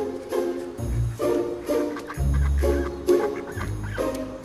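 Ducks quack repeatedly in short bursts, fairly close, with a few loud honking calls rising over softer chatter and background sound.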